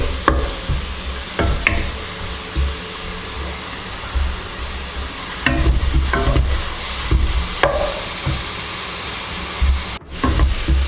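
Onions frying with a pinch of salt in a pan for chicken gravy, a loud continuous sizzle with repeated scraping stirs of a spoon against the pan, close and without talk.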